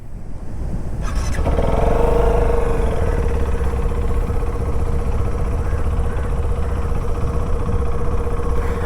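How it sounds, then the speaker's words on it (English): A TVS Apache RTX 300 motorcycle starts up about a second in, then settles into a loud, steady, throaty idle from its exhaust, heard up close and continuously. "let's also hear out the exhaust note."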